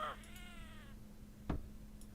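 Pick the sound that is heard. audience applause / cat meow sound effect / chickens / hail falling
cat meow sound effect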